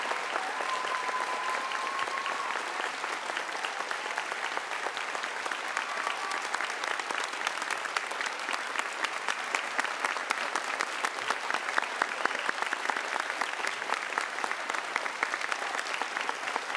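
A large audience at the Unitarian Universalist Association General Assembly claps loudly and continuously for the newly elected president, a dense, steady wash of applause that holds throughout with no talking over it.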